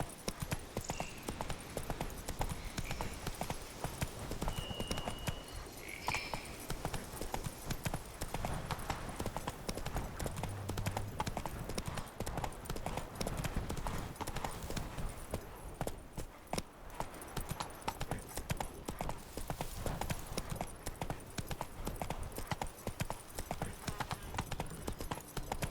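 Horse galloping in The Witcher 3, hooves drumming in a fast, continuous clip-clop rhythm close up and loud for the whole stretch, with a brief whinny and no talk over it.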